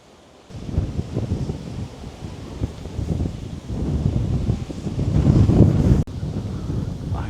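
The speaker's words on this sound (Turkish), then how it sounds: "Hava çok güzel esiyor şu an." Steady outdoor wind in a quiet Japanese village, rushing and buffeting against the microphone in a continuous roar that swells louder toward the end, with no talking.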